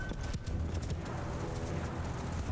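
Horse hooves clop in a quick, uneven patter amid Mount & Blade II: Bannerlord battle ambience, moderately loud with a dense rumbling backdrop and no clear talk.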